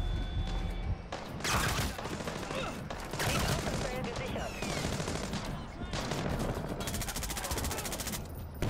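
Sniper and other gunfire in Splinter Cell: Blacklist, a dense continuous fusillade of shots and impacts at full loudness, with a few heavier blasts cutting through the steady barrage.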